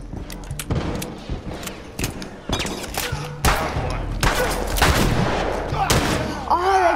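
Rapid bursts of gunfire from a gun in The Last of Us, sharp repeated shots in uneven volleys, loud and close, with a voice speaking briefly between them.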